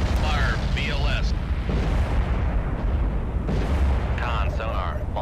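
Heavy rumbling launch blasts of VLS missiles fired from a submarine in the Cold Waters naval video game, deep sustained booms and roar under repeated spoken voice lines from the game.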